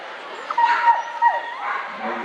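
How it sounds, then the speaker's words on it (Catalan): A dog yips, whimpers and gives short barks at a dog-training session, the whining cries rising and falling over steady background noise with no talk. "Aquí sent el gos"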